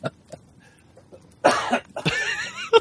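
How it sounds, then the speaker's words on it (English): A person coughs in a room, a few soft hacks at first, then two loud harsh bursts close to the listener in quick succession. "Sorry, I didn't mean to make you cough."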